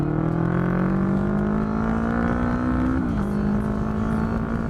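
A carburetted Honda CB500 motorcycle accelerating gently: a close, continuous engine drone rising steadily in pitch, then dipping briefly as the throttle eases before holding a steady note, with no talking.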